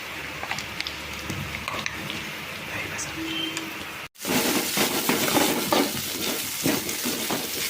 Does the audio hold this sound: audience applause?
no